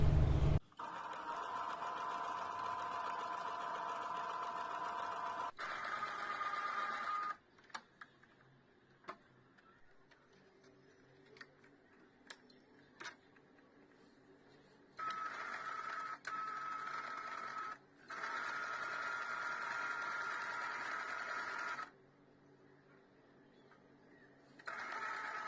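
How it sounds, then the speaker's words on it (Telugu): Sewing machine stitching a double-folded piece of satin fabric, bursts of fast mechanical whirring alternating with pauses and scattered clicks of handling, close and moderately loud. "ఇలా డబుల్ ఫోల్డ్ చేసి ఇలా పెట్టి మిషన్ మీద ఒక స్టిచ్ వేద్దాం."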